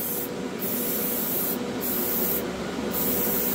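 Steady hiss of an airbrush spraying paint, continuous and close, with faint rubbing or handling noises underneath.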